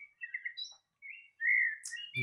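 A common blackbird calls in a garden: a few short, clear chirps and whistled phrases separated by brief pauses, fairly faint and alone.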